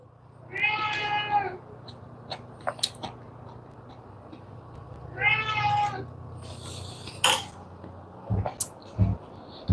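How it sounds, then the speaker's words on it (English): A pet cat meows twice in clear, drawn-out calls a few seconds apart, fairly close, with small clicks and faint background noise between. "My cat is such a cutie."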